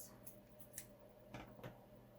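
Scissors snip through paper while a paper doll is being made, giving a few quiet, separate crisp cuts spaced apart against a faint background hum.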